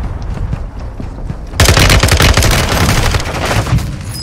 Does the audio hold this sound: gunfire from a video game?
yes